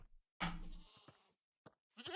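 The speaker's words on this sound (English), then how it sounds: "Screaming goat." A screaming goat in a video game lets out one loud, drawn-out bleat close up, followed by a brief blip and a shorter second bleat.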